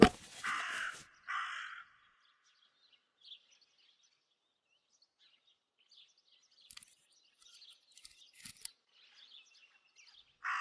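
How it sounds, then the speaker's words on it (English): A raven caws in the video game Martha Is Dead, loud harsh calls at the start, then quieter scattered caws and chirps in an otherwise quiet outdoor scene. "That raven is making a big fuss."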